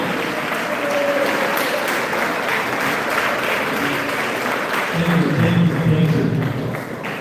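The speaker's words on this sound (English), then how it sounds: "Please stand up and keep clapping." Standing audience applause at a live program launch on combating drugs, a steady wash of clapping from a large crowd that continues throughout, with faint voices and some tonal sound rising near the end.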